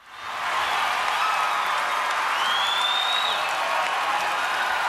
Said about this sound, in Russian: судя по аплодисментам в зале, можно догадаться, за кого голосовали